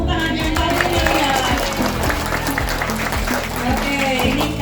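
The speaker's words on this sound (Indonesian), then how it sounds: "harus dengan tepuk tangan yang meriah ya." Children at an Islamic boarding school in Garut clap their hands in a lively group, the steady clapping running under loud singing and voices throughout.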